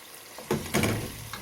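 Chicken pieces dropped into a pan of softened onion and garlic, giving a sudden burst of sizzling that swells twice and then settles into a steady close frying hiss with faint stirring clatter.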